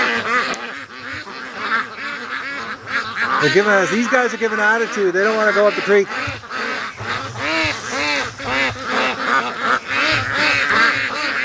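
A flock of geese and ducks on a creek, loud honks and quacks overlapping in a busy, continuous chorus close by, with someone talking over the racket.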